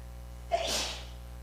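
A single sneeze bursts out once, fairly close and moderately loud, against a quiet room hum in a college lecture, with no talking over it.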